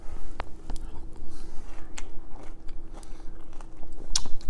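Close-up crunchy chewing of breakfast cereal soaked in Planet Oat oat milk, with several sharp bites and soft wet mastication over a low background hum, no talking.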